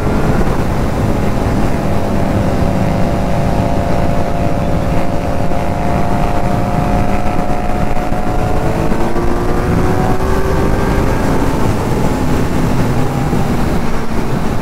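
A Kawasaki Z900 superbike rides at high speed on a highway. A steady, loud engine drone with rising and falling pitch runs under heavy wind noise throughout.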